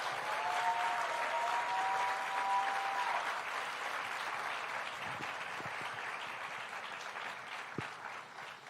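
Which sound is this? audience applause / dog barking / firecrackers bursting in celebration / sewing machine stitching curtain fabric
audience applause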